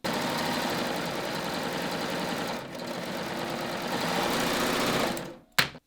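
A Baby Lock Ovation serger runs steadily, stitching a lightweight rolled hem on fabric. The whir holds for about five seconds, then stops abruptly, and a brief handling clack follows.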